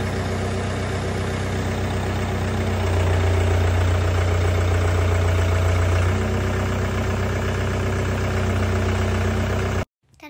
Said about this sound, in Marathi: तर हा आमचा सागरने नवीन ट्रॅक्टर घेतलाय.